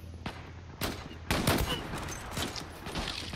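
Gunfire rings out in Zula, a few sharp shots spaced over a few seconds, moderately loud with a noisy background between them.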